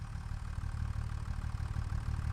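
A tractor's engine idles steadily in a farming video game after the mower is disconnected, giving a continuous low rumble with no voices.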